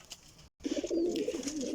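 Pigeons in a loft give a close, throaty coo that swells after a brief silent gap, a soft warbling call over faint background noise.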